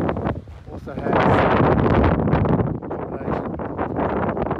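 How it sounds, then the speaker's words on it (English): Strong gusts buffet the microphone at a windy roadhouse campsite with caravan camping, a loud rushing roar that swells after a calmer start and keeps blowing, with a voice speaking over parts of it. "It's a windy place"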